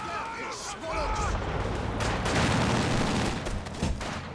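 Sustained gunfire in Company of Heroes 2, a World War II strategy game, rattling on densely and fairly loud with artillery-like booms mixed in, under faint game voices.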